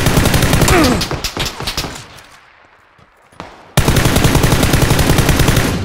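Rapid automatic gunfire from the PUBG video game bursts loudly, fades into a quieter stretch with a few scattered shots, then resumes as a dense, continuous volley.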